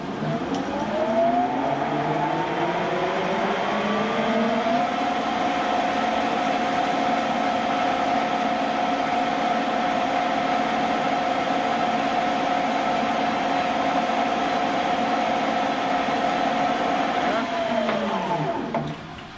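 Lathe turning the outer diameter of a piston, taking a few thousandths of an inch off: a steady motor whine and cutting drone that rises as the spindle spins up, holds level for about thirteen seconds, then winds down.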